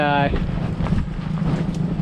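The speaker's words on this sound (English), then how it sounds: "this wind is tricky. I'd say it's constantly at 20, maybe gusting even higher" Strong gusting wind at a kart track buffets the microphone in a low, rumbling roar, with a brief tonal whine at the start and a voice talking over it.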